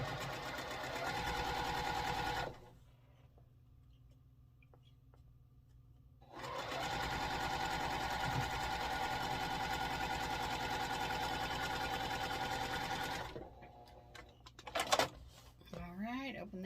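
A sewing machine stitches together a quilt block for an All Seasons Sampler quilt, humming steadily in two long runs separated by a pause, followed by a few brief handling noises.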